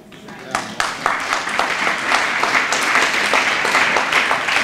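Audience applause at a talk on teachers and public schools. Individual claps start it off, then quickly thicken into a full, lively round of clapping that stays strong throughout.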